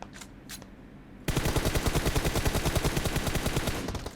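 In the video game PUBG Mobile, after a quiet moment, rapid automatic gunfire erupts in a loud, continuous burst of evenly spaced shots lasting several seconds.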